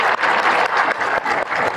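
A crowd at a football academy event applauds to welcome coordinator Islam Kərimov to the stage. The clapping is loud, dense and continuous throughout.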